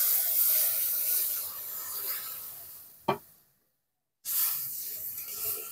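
Spice paste fries in oil in a pan for an aar fish roe jhal, a loud, steady sizzling hiss that flares briefly, drops to silence for about a second, then resumes.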